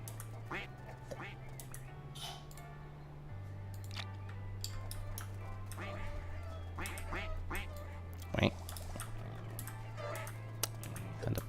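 Ducks quacking in the farming video game No Place Like Home. Scattered short quacks come at irregular intervals over a low, steady game music drone, with occasional faint clicks.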